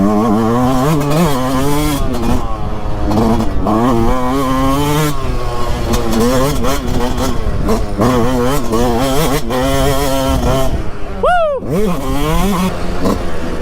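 A 2022 Yamaha YZ 125 two-stroke dirt bike is ridden on a track in Italy, its engine loud and close as it revs and drops repeatedly with sharp throttle blips, continuous throughout.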